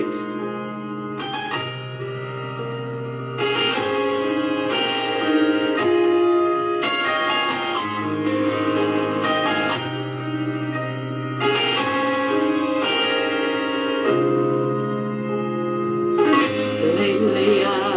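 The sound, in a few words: bells playing in a church service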